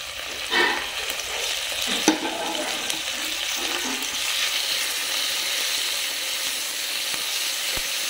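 Tomatoes go into onions and spices frying in oil for chicken pulao, and a dense, continuous sizzle follows with a few stirring knocks early on, loud and close throughout.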